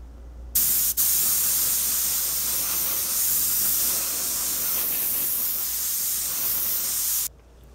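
An airbrush sprays buff paint mixed with a little white over a Tamiya Chieftain tank model, a steady close hiss that starts abruptly, runs about seven seconds with one brief break, then cuts off.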